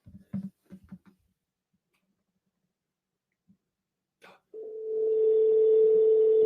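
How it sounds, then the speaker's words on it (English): A steady electronic ringback tone starts partway through and holds continuously, following a few short spoken words and a quiet pause. "Ooh, it's ringing."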